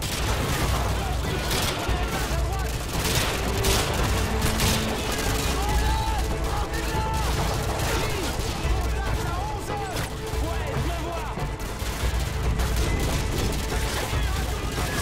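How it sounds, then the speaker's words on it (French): Heavy gunfire from a school during a mission in the video game Call of Duty: Modern Warfare 2, dense and continuous rattling shots with a few booms, mixed under radio-style voices talking throughout. "On essuie des tirs nourris depuis l'école."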